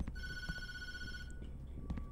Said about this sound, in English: just because you said that, I'm going to answer the phone